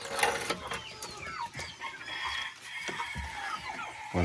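Chickens eat from a feeder of balanced fattening feed, with scattered clucks and soft calls close by and a rustle of birds moving about.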